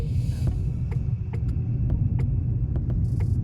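Tata Punch EV electric car cruising on a long road trip, heard from inside as a steady low road rumble with faint periodic ticks and clicks, no talking.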